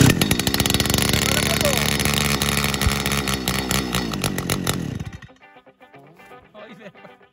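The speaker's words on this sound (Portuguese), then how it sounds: "essa roçadeira aqui é a 350, viu, da Steel. Uma bela de uma máquina, boa, viu?" A Stihl 350 brush cutter, left long unused and hard to start, runs loud and close with a steady two-stroke engine buzz for about five seconds, then cuts off, leaving quiet background sounds.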